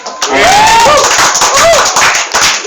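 An audience at an open-mic stand-up comedy show claps together in a dense, loud burst of applause, with a voice and a few whistles over it.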